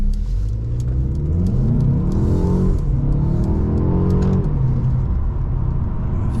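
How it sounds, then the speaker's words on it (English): A 2023 Mercedes CLA 250 4MATIC accelerates hard out of a turn, heard from inside the cabin as a loud, steady engine drone that climbs in pitch through rising revs, drops briefly at gear changes, then pulls up again. "Let's go ahead and do an acceleration right here on this turn, and we'll see how this CLA will do."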